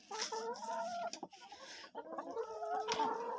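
Chickens cluck inside a chicken coop on a laying-hen farm, several birds close by giving overlapping nasal clucks and short squawks, with a brief pause partway through.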